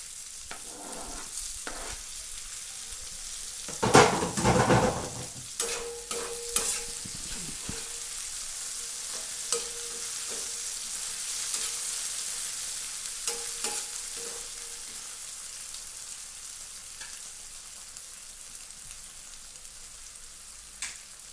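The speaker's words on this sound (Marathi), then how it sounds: "आता टाकू यामध्ये टमाटर." Tomatoes hit a hot pan and are stirred, giving a loud burst of clattering and sizzling early on that settles into a steady frying hiss with occasional scraping, with no talking.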